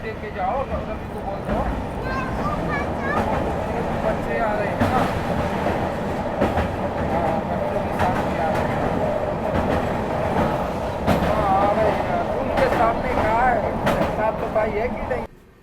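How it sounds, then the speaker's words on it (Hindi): The Secunderabad Duronto Express runs along the rails near Sevagram, a loud steady rumble with rhythmic clickety-clack from inside the coach, and someone speaks over it. "अब ट्रेन हमारी सेवाग्राम पहुंच रही होती है"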